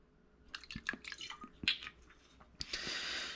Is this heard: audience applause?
no